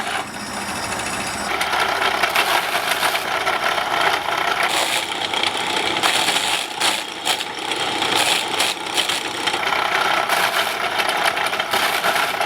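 An antique cider press driven by a motor mounted on a low gear runs with a steady mechanical whirring and clattering hum, continuous and fairly close, with no talk.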